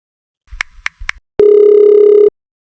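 A mobile phone call being placed: three quick beeps, then a steady, loud ringing tone held for just under a second before cutting off. No voices.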